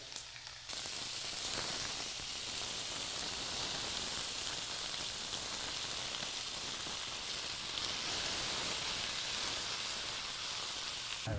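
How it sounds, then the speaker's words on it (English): Steady, loud sizzling and crackling of spices frying in a hot pan for Indian curry, continuous throughout with no voices. "listen for the sizzle, best part of any meal prep."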